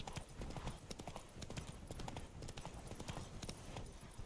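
A horse gallops in the video game The Witcher 3, its hooves pounding in a fast, continuous, even rhythm that stays close and fairly loud throughout.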